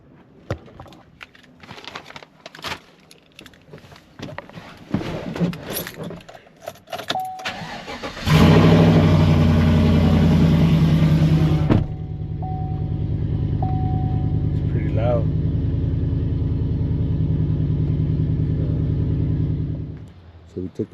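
A Chevrolet Silverado Z71 truck, fitted with new upper control arms, cranks and starts with a sudden loud roar, then settles into a steady close idle and rumble as it drives off, fading at the end.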